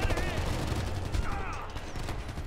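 Gunfire from the video game Ghost Recon Future Soldier, with a weapon set to single shot, fires in a dense, loud burst of overlapping shots through the whole stretch, mixed with game sound effects.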